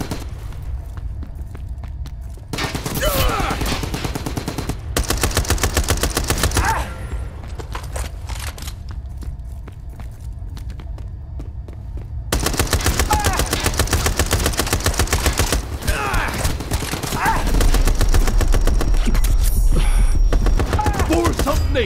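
Bursts of rapid automatic gunfire from the shooter game Brothers in Arms 3, loud crackling volleys broken by quieter gaps, with a sustained heavy barrage near the end.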